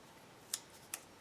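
Scissors snip ribbon for a handmade card, two quiet, crisp cuts about half a second apart, close and otherwise near silent.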